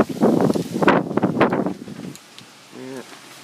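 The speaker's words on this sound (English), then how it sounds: "Windy storm. Really windy storm here." Strong gusty wind as a thunderstorm moves in, roaring and buffeting the microphone loudly for about two seconds before easing to a quieter background rush.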